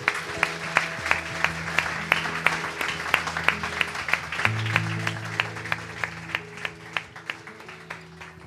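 A church congregation breaking into applause to acclaim the Lord, a dense burst of many hands clapping that settles into a steady rhythmic beat in time with sustained music, fairly close and loud.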